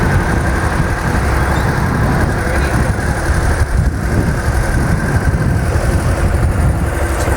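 Honda DN-01 NSA700A cruiser motorcycle with digital fuel injection, its engine running in a steady, even drone at close range without a break.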